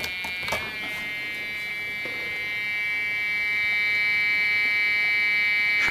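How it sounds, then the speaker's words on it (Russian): A measuring device sounds a danger warning signal, a steady high electronic buzzing tone that holds continuously and swells slightly louder toward the end, heard alone. "Идет сигнал опасности."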